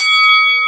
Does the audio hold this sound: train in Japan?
no